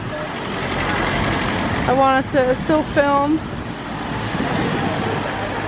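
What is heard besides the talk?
car traffic on a street in Lisbon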